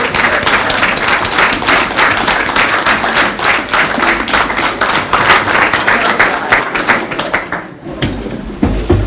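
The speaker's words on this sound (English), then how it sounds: "Just spread the applause out more" A crowd claps steadily at a regular commission meeting in November 2024. The applause is dense and continuous for about eight seconds, then thins out near the end.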